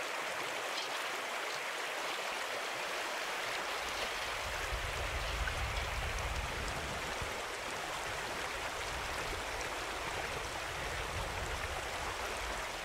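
Creek water flows in a steady, close rushing wash in the Yukon wilderness, a continuous broadband babble with no voices.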